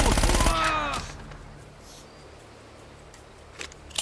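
Gunfire from Uncharted: Drake's Fortune bursts loudly at the start, then a couple of fainter distant shots follow near the end over a quiet background.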